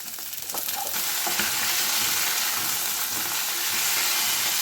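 Hard vegetables tossed into hot oil in a pan for a Bengali curry, a loud steady sizzle rising in the first half second and then frying evenly, with faint stirring clinks and no voices.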